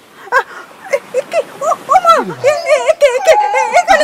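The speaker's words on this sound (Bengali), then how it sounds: "অমনি কোথা থেকে এক কুকুর এসে হাজির সেখানে।" A dog in a Bengali audio drama yips, barks and whimpers in a rapid run of short, close, loud calls that turn into rising whines, heard alone without speech.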